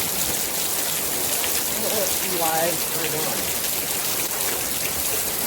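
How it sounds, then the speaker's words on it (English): Steady rain pours during a thunderstorm at New River, a dense even hiss that fills the whole stretch, with someone briefly talking over it. "Give some rain ASMR, huh?"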